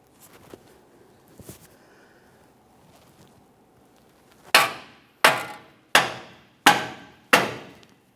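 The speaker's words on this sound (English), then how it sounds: "we can even just use a rubber mallet, give it a couple taps" Rubber mallet striking the front left lower control arm of a 2017-2024 GMC Acadia, five sharp close taps at a steady pace after a few faint knocks and clinks, with no voices.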